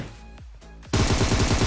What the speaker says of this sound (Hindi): अब यहाँ पे गाइस मैं इस वाले बंदे पे फायरिंग कर रहा था